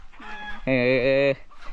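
A chicken lets out a loud, close cackle lasting about half a second, with softer clucking before and after and faint voices in the background.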